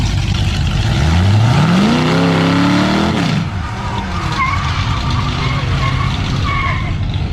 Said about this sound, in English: Not much of a burnout.